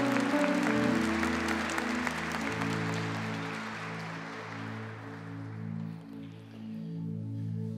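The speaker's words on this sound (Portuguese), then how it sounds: "Uma calorosa salva de palmas" Church congregation at a Catholic celebration applauding to welcome Bishop José Antônio Peruzzo, soft scattered clapping from a crowd under sustained organ or keyboard chords that carry on as the clapping fades.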